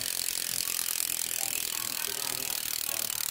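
The wheel of an XT-300 mountain bicycle with slightly worn bearings spins freely, giving a rapid, even stream of fine ticking clicks up close with no pause, and someone speaks over it.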